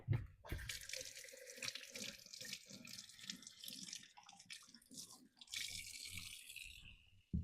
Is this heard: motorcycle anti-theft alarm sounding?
no